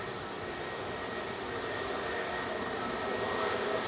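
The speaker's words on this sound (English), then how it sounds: "A321 Neo heading to Antalya now" Airbus A321neo jet at Manchester Airport, a steady, moderately distant engine roar with a faint high whine, unbroken throughout and without speech.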